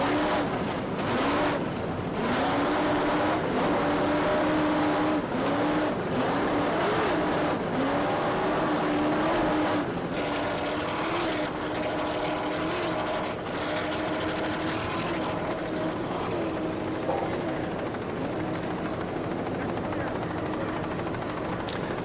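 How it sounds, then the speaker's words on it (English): Racing powerboats, including a 41-foot offshore boat, roar at full throttle during the 1990 Point Pleasant offshore race, a steady loud engine drone with a rising harmonic whine throughout and an announcer's voice over it. "really putting this boat through its paces right now"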